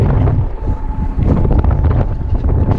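Strong wind buffets the microphone in loud, gusty rumbles in a farm field, with a faint tractor engine drone underneath.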